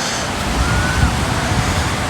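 Sea waves break against a rocky shore in a constant, loud, wind-buffeted roar with low rumbling surges, heard close and without clear pauses.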